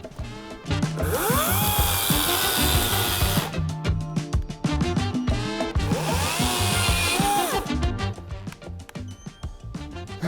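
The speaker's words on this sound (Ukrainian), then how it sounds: "Пила сіла. 181 різ." A Dnipro-M DCS-200BC cordless saw cuts through wood in a battery endurance test, its loud motor whine surging with each pass. Two long cuts are separated by choppy bursts of motor noise, close up and with no talking.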